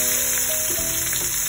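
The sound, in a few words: tofu (tokwa) frying in oil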